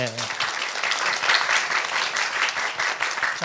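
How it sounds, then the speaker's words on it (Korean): Audience applause at a talk concert held by a national chemistry research institute, a full, even burst of clapping from the crowd filling the short span. "박수 한번 해주십시오"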